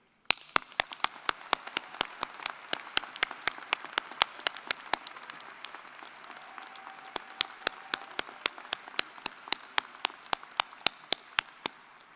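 Audience applause at a university law school commencement ceremony in 2023 runs through the hall as a dense, steady wash, with sharp, close claps from one pair of hands ringing out at a quick, regular beat.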